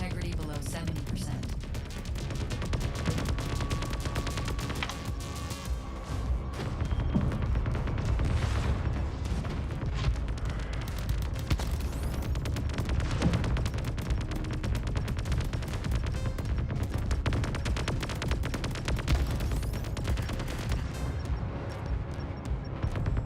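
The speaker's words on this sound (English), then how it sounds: "Look for the turret nodes and shoot those. They're what's shooting at us now." Sci-fi turrets firing on a ship in the co-op space game Void Crew, a dense, continuous barrage of shots and impacts under game noise and people talking.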